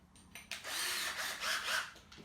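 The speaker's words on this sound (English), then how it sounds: "we're going to drill through at a slight angle." A 10mm hole cutter bores at a slight angle through an IKEA Lack table leg, a short whirring grind that rises and falls over about two seconds, close and moderately loud.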